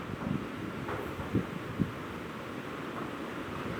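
Strong storm wind blows steadily against the microphone, a continuous broadband rush with a few low gusty thumps and no voices.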